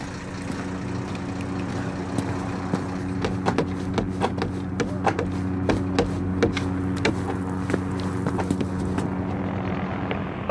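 Military helicopters approaching in a Call of Duty Modern Warfare campaign mission, a steady low rotor drone with repeated sharp bursts, likely distant gunfire, cutting through the whole scene.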